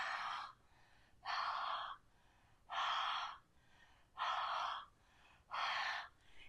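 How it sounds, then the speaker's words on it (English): Exhaling breath onto a rubber stamp from the Peaceful View stamp set to re-moisten dried marker: five long, steady breathy exhales, evenly spaced with short pauses between, close and clear with no talking. "we're just going to exhale on the whole stamp"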